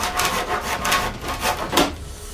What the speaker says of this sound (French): je finis de les couper en scie japonaise